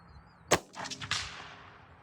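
A single sharp rifle shot from a Savage 93 or Mossberg MVP, followed by a brief reverberating echo and faint downrange impact sounds, heard alone outdoors.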